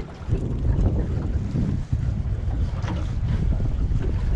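Strong wind buffets the microphone on a fishing boat out on the water on a blustery day, a steady loud roar with gusting rumble and waves running the full length, no one talking.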